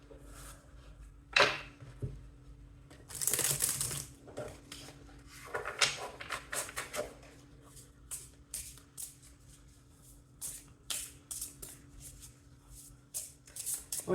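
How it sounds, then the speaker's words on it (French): Tarot cards handled and laid on a surface during a reading: soft shuffling swishes and light papery slaps, with a louder burst near the start, then scattered brief taps and rustles close by, no talking. "Je vais mettre une troisième carte ici."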